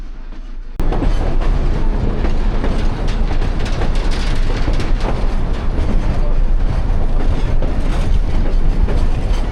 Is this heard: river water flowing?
no